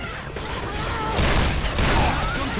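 AK-47 gunfire in the zombie shooter Left 4 Dead, a burst of rapid shots building after a brief pause and continuing loudly to the end amid game noise.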